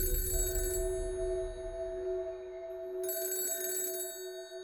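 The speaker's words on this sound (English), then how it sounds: "I heard that phone ring." An old black telephone in a father's study rings in two bursts separated by a short pause, a faint, tinny bell over a low hum.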